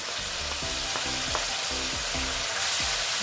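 Soybean chunks and chickpea lentils fry with spices in hot oil, giving a continuous close sizzle broken by rhythmic scraping and clinking strokes of a spatula stirring the pan, with no voices.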